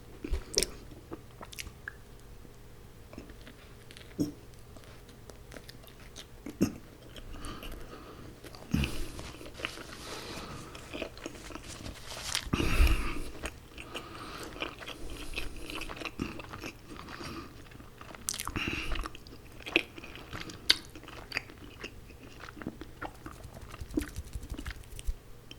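Close, soft chewing and biting on cheesy hot dogs, a sausage with cheese inside: steady wet mouth noises and small crunches throughout, with a few quiet sounds in between.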